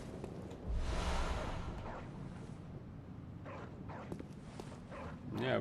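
A hostile dog in the video game Bloodborne barking and snarling in a loud burst, then growling and yelping in short, scattered bursts amid combat noises, with someone speaking over it.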